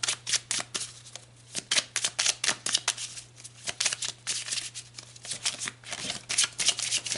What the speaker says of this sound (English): Let's pull some clarifiers here with these tarot cards.